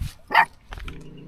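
A dog left behind at a house where property was stolen gives a single sharp bark, followed by fainter yips and whimper-like sounds close by, with no talking over it.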